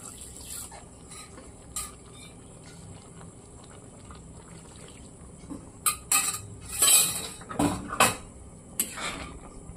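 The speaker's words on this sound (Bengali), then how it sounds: "এই মটর আলুটা একসঙ্গে মশলার সঙ্গে ভালো করে মিশিয়ে নিচ্ছি।" Peas and potatoes are stirred into fried spice paste in a cooking pot, a soft bubbling simmer punctuated by a few louder clinks and scrapes of a spoon against the pot, close and without any talk.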